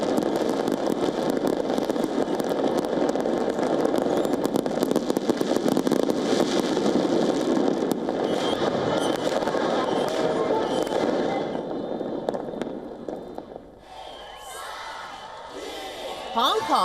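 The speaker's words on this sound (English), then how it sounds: "Indonesia brought in the new year with a massive display of fireworks and drone light show over the skyline of capital city Jakarta." Massive New Year fireworks over the Jakarta skyline crackle and pop in a dense, continuous barrage with crowd noise beneath, then thin out into scattered bursts near the end.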